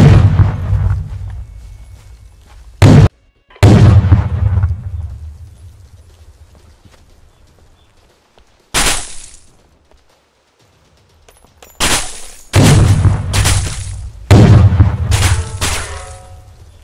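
Several loud explosions from grenades in the tactical shooter Ground Branch, a PvP mode on a dev test server: broad booming blasts at irregular intervals, some in quick pairs, each trailing off into rumbling decay between bursts.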